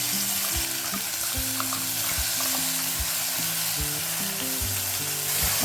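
Ground cashew, poppy seed and onion paste sizzling loudly in hot oil in a home kitchen, a dense continuous frying hiss with spoon stirring and scraping knocks throughout.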